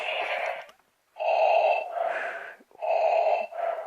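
A toy figurine's electronic breathing effect plays in rapid, rasping cycles of inhale and exhale, loud and close, with brief pauses between breaths.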